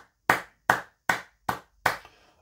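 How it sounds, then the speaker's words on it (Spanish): Five sharp, evenly spaced claps ring out with short silent gaps between them as an audience applauds two football legends. The claps are crisp and close, with no talk. "Un aplauso a estas dos leyendas del fútbol"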